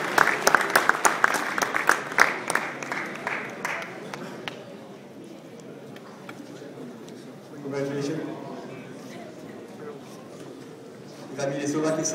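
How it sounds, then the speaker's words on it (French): An audience at a Grand Ballon race gives brief applause for the top five women finishers, scattered clapping fading out after a few seconds, followed by an announcer speaking over a public address. "Voilà, je crois qu'on peut les applaudir."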